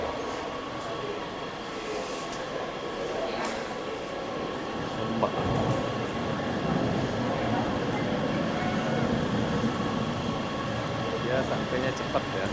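Kuala Lumpur LRT train running steadily, a continuous rumbling rail drone with air-conditioning hiss and faint clickety-clack, heard from inside the carriage with a few louder knocks along the way.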